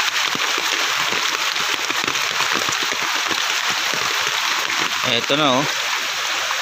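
Typhoon floodwater rushing across a broken, washed-out road, a constant loud watery roar filling the scene while someone talks briefly over it.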